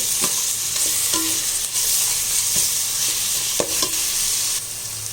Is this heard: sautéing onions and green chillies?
yes